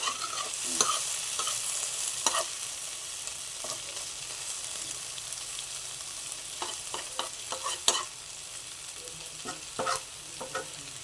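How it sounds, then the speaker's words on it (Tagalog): Shrimp-paste (alamang) omelette frying in a pan, with a soft steady sizzle and scattered scrapes and taps of a utensil stirring, close and fairly quiet throughout. "Luto muna tayo ng ulam. Ito yung aking torta."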